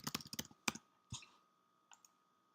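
Keys tapped on a computer keyboard while a password is entered, a quick run of crisp clicks followed by a few isolated taps after short pauses, close and clear over a quiet room.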